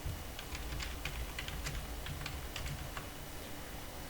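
Fingers type a database name on a computer keyboard, producing soft, irregular clicking keystrokes that sound faint and steady, with no voices.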